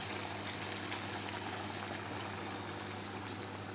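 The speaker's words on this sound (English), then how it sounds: "I've got boiling water here, so kettle water which I've boiled, and I'm going to pour 1 glass of" Boiling kettle water is poured into a pot of home-made goat curry, giving a steady, even hiss and rushing liquid sound with no pauses and no voices.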